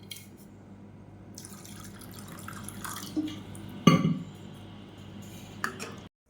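Water poured into a pot of a thick ground batter to loosen it while cooking a breakfast dish, giving soft faint trickles and a clearer splash and clink near the middle, with quiet kitchen background.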